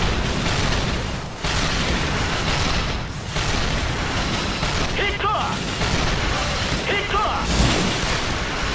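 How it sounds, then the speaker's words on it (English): Cannon fire in the action video game Assault Gunner on PS4, a dense, continuous barrage of booming blasts and bursts with a few sharper pops near the end, loud and sustained. "Spam the cannon! It is godlike."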